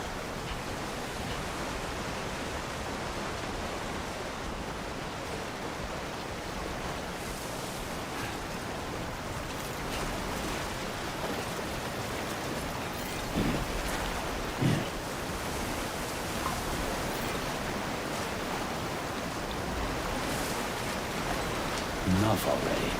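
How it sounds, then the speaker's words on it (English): Steady rain hisses across the landscape in Death Stranding, a dense, even wash of noise that continues throughout, with a few brief louder knocks and splashes near the middle and end. "It's raining upwards."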